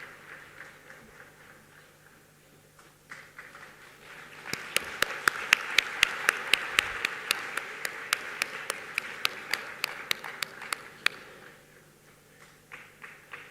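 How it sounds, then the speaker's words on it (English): An audience at the Africa Climate Summit 2023 breaks into applause in a large hall, the clapping swelling from a quiet room to a steady, moderately distant roar for several seconds before fading back to quiet. "A warm round of applause there as well."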